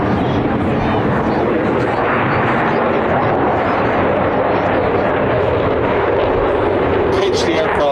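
An RAF Eurofighter Typhoon jet performing at the Blackpool airshow, a loud continuous roaring engine rumble and blast filling the air, steady and powerful throughout, with an announcer's voice partly heard over it.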